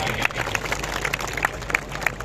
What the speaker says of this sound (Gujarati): આપણે સૌ એકબીજાને તાળીઓના ગડગડાટથી આપણે સૌનું સ્વાગત કરીશું